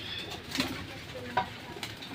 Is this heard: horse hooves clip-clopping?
no